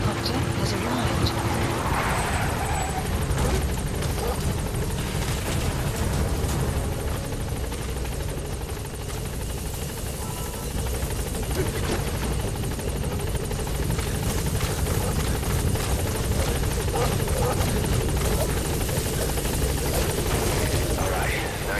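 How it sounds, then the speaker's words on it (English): Support helicopter hovering at a landing zone in Metal Gear Solid V, a loud steady rotor roar and engine whine filling the whole stretch, with radio voices talking over it. "Support helicopter has arrived."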